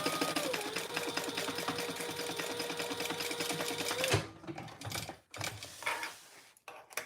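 Sewing machine stitching the sides of a fabric wallet, a fast, steady mechanical chatter for about four seconds, then stopping into quieter handling clicks and pauses.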